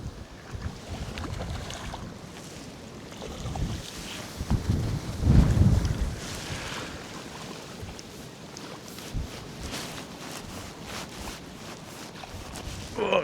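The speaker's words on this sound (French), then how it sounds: "Oh, quel vent." Steady wind buffeting the microphone outdoors while fishing for tench, with a louder gust swelling midway and rough low rumble throughout, no voices.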